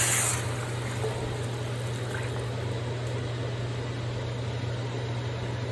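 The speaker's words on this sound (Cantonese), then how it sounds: "跟住呢，放嗰啲第二早煲好嗰啲雞湯" Pre-made chicken broth pours into a pot holding radish, a steady, close liquid rush with a splash at the start and a constant low hum beneath, no talking.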